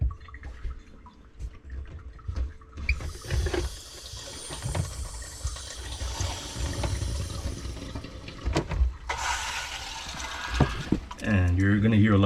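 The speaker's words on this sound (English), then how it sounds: "and it's just your filters filling back up" A four-stage A.O. Smith reverse osmosis filter system refills after the water supply is turned back on, with rushing, gurgling and hissing water that swells loudly midway and near the end, mixed with intermittent handling noises.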